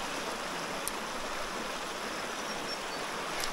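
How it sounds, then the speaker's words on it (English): Fresh spring water trickling and seeping out of the ground beside a small trout stream, a steady broadband wash of flowing water, close and unbroken throughout. "there's fresh water trickling out of the ground over there"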